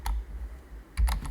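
Several quick keystrokes on a computer keyboard while typing Python code, close and distinct in two short clusters.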